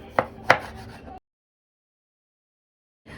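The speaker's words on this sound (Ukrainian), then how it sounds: "Нарізаємо теж шматочками невеличкими." A knife chopping food into small pieces, two quick close knocks on a board followed by silence.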